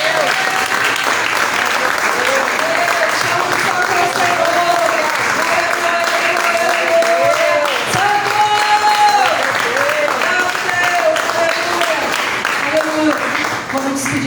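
Church congregation applauding during a Portuguese-language worship service, sustained loud clapping with overlapping voices and singing or tonal speech running through it.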